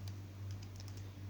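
Keyboard keys clatter in a quick, uneven run of light clicks while someone types a search term into a computer, close and fairly quiet over a steady low hum, with no talking.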